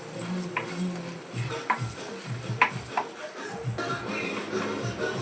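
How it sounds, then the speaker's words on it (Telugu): Curry leaves fry in a pan for a tiffin-centre style chutney, making a steady crackling sizzle with a few sharp taps of a spoon against the pan, close and moderately loud. "దీంట్లోనే కడిగి శుభ్రం చేసుకున్న రెండు రెమ్మల కరివేపాకు కూడా వేసుకోండి బాగా ఫ్రై చేసుకోవాలండి"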